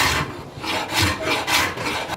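Hand carving of wood that cuts easily on the side, roughing out a shape: rhythmic rasping strokes scrape back and forth about every half second, close and steady, with no talk.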